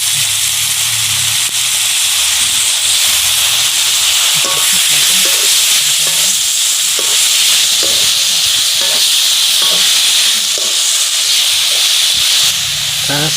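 Taro leaves hiss and sizzle loudly as they drop into spices frying in a pan, a continuous steamy crackle with intermittent scraping and stirring clinks throughout.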